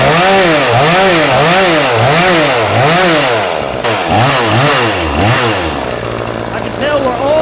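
Proyama 62cc chainsaw revving hard, close and loud, its two-stroke engine rising and falling in rhythmic throttle blips before settling into a steady high idle.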